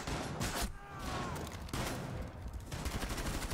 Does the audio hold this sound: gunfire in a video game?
yes